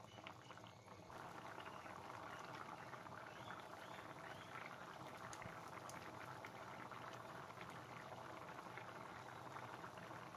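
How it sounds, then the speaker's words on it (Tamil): Kuzhambu curry bubbles steadily in a pot, a soft continuous gurgling and popping simmer heard alone at low volume for about ten seconds. "குழம்பு நல்லா கொதிச்சிருச்சு"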